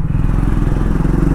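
Triumph Speed 400 single-cylinder motorcycle engine running while being ridden through the city, a loud steady throbbing pulse with wind rush, close to the microphone and without talk.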